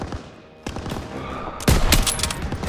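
Machine-gun fire in the video game Call of Duty WW2 comes as dense, crackling bursts that swell louder partway through, with overlapping shots and battlefield noise.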